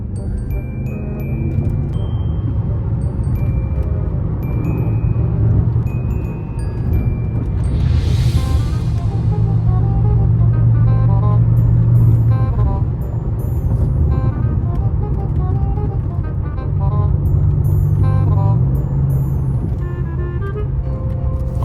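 A BMW M5 is pushed hard along a bumpy back road, heard from inside the cabin as a loud continuous engine and road rumble with rising and falling revs and occasional light rattles, no talking.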